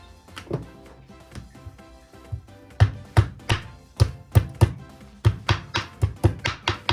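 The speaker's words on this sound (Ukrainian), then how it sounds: "Зубок часника теж роздавлю оцім молоточком." A small hammer crushes a garlic clove, striking repeatedly on a hard surface, soft taps at first, then a steady run of sharper, quicker thuds close by.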